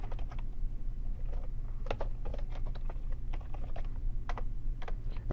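Steady typing on a computer keyboard while entering a subject into an email filter, a quick irregular run of close, crisp key clicks with no speech.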